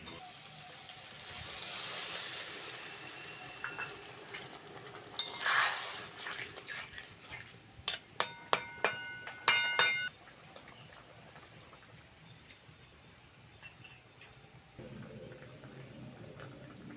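Water is poured into a pan of spiced Bombay duck (lote fish) curry, making a soft rushing splash followed by a few clinking utensil taps against the pot, heard close with low kitchen background.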